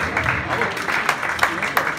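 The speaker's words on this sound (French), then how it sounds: "On peut l'applaudir." Brief burst of audience clapping at an annual gathering of a La Rochelle gastronomic brotherhood, moderately loud with a few sharper individual claps and voices talking over it.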